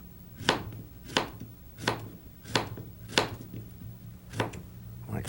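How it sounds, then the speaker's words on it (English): A knife chopping zucchini with a rolling cut on a cutting board, giving steady, evenly spaced thuds about every half second, close and clear, with no talking. "how to cut up our zucchinis in a special rolling cut"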